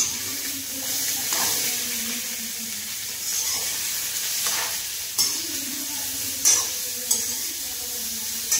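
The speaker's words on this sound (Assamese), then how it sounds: "এতিয়া সেইটো অলপ সময় ফ্ৰাই কৰি ল'ম এনেকৈ" Pork sizzles steadily in a hot pan for a simple pork curry, with a continuous hiss broken by occasional sharp spatters and the scrape of stirring, close and fairly loud.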